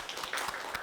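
Brief burst of congregational applause for the pastors during a Sunday church service, a dense wash of clapping lasting under a second.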